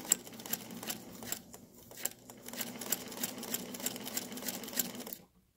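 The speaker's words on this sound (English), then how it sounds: "we'll go ahead and start sewing so you can see how this" A Singer Featherweight sewing machine fitted with a scant quarter-inch foot runs in a quick, even stitching rhythm for about five seconds, close but fairly soft, then stops abruptly, with no talking.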